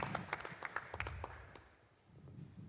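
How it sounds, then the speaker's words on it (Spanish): Audience applause welcoming a doctor at a national pain forum, a short burst of scattered clapping that tapers off and thins toward the end, fairly quiet and distant. "Con un fuerte aplauso también, por favor,"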